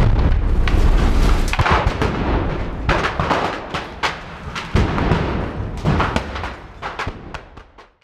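A detonated explosion sets off a loud, booming series of heavy blasts and thuds, repeating irregularly and rumbling before tapering off.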